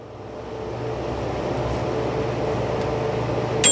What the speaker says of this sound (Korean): 자, 그러면 전자레인지가 돌아가는지